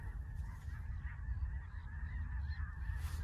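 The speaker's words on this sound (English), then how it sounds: "I scared the geese up." Geese honking faintly in the distance, a steady stream of overlapping calls over low outdoor rumble.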